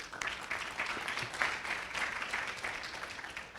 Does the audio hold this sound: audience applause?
yes